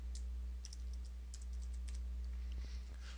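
Typing on a computer keyboard while entering implant specifications into dental implant library software, a steady run of light key clicks over a constant low electrical hum, with no voices.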